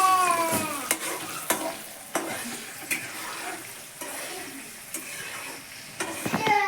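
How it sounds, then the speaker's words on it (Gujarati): Green chillies sizzle and crackle in hot oil in a home kitchen while pav bhaji is being made. Bright spits and pops sound near, with sharp stirring clatters against the pan at irregular intervals and faint background noise. "તેલ ગરમ થઈ ગયું અને પહેલાં નાખી દેવા છે મરચાં નાખવાનું છે"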